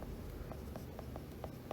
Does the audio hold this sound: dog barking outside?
no